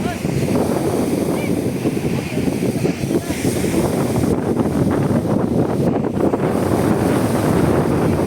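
Strong, steady wind after a typhoon roars across the microphone throughout, with faint voices buried beneath the gusts.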